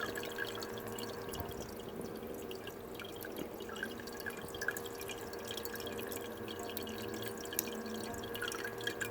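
Water trickles and drips steadily through a copper pipe heating coil, a faint continuous flow with small drips and hum in the background, no talking.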